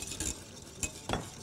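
Kiwi pudding mixture stirred in a pot as it starts to boil, giving a few short scraping and clinking strokes against the pot with a soft bubbling hiss underneath, close and fairly quiet.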